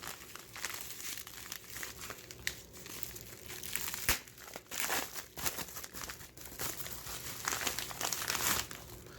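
Plastic packaging crinkles and crackles up close as a package of Wish-bought AirPods is torn open, with dense, irregular rustling bursts and sharp snaps continuing throughout.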